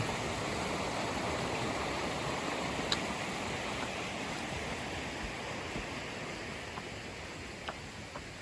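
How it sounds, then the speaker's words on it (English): Lower White's Creek near Reno, Nevada rushes past on a hiking trail as a steady, dense wash of flowing water. It is fairly close and continuous, with no voices. "That creek rushing is really loud and it's difficult to talk over"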